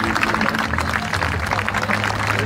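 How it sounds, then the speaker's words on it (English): Audience applause at a grandmother and grandchildren fashion show at Poona Club, honoring the models: a dense, steady wash of clapping at even loudness throughout, with low background hum beneath. "give our models a big round of applause."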